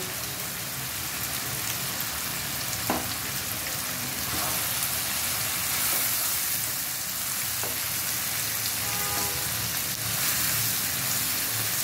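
Vegetables sizzling steadily in a pan with instant noodle spice mix, a continuous close hiss with occasional clinks of stirring throughout.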